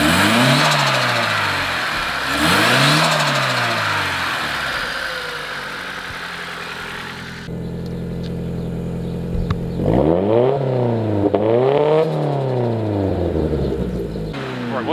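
A turbocharged ED-series Honda Civic engine revs repeatedly, rising and falling in clear sweeps, with a rougher idling stretch midway before further close, loud revs.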